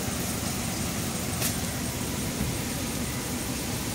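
A Hyundai Creta with automatic transmission idles on CNG with its AC running, giving a steady, even engine hum with no rise or dip in revs, and no one speaking.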